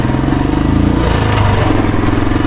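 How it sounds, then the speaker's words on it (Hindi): A Royal Enfield Standard 350 BS6 motorcycle engine idles loud and close, with a steady, even thumping that continues without a break. "स्टार्ट तो हो गई भाई। साउंड भी सही है यार इंजन का"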